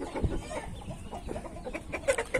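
A large Índio breed rooster clucks in short, irregular calls close by on a hot day, with scattered faint bird sounds around.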